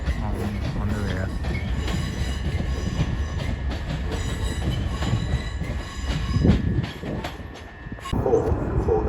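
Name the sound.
class 376 train 376 023 at a London terminus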